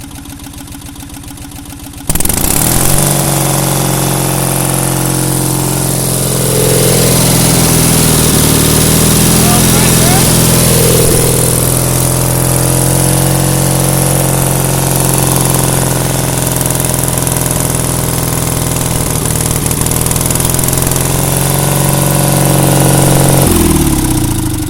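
A welder generator engine that runs on only two cylinders starts up and idles steadily, a loud mid-pitched drone with a slightly uneven beat that stays close and continuous throughout.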